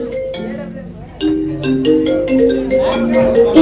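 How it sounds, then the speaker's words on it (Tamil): A mobile phone rings loudly and close, playing a repeating melodic ringtone with stepped tones that grows a little louder toward the end. "என்ன திரும்ப ஃபோன் வருது?"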